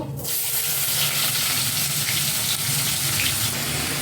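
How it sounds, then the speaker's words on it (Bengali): Whole garam masala and onions hit hot white oil in a home kitchen pan, a loud, continuous crackling sizzle that flares up at the start and keeps hissing evenly throughout. "তেল গরম হয়ে গেছে, আমি এখন দিয়ে দিব গোটা গরম মশলা, কিছু পেঁয়াজ রেখেছিলাম ফোড়নের জন্য, এগুলো দিয়ে দিব"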